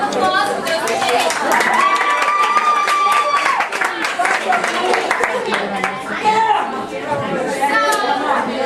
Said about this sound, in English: round of applause for those who did it